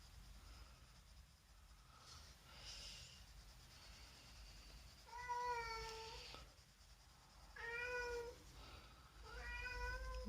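A house cat meows several times in short, clear, pitched calls, grouped in bursts near the middle and end, close to the microphone over a quiet room.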